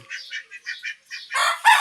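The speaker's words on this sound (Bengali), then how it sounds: "আমার বাসার হাঁস" Domestic ducks, including Pankiraj and local desi ducks, calling at a home: a quick series of short nasal honks close by, ending in two louder, harsher calls.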